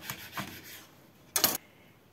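A knife pushed hard through a raw artichoke, giving a single loud, sharp crunching cut after a few softer rubbing scrapes, close up and with no talk.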